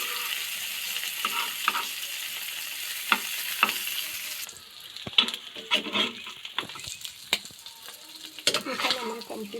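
Chepa shutki, dried fish, frying in a pan with a steady sizzle, then quieter crackling broken by sharp scraping and stirring clicks from a utensil.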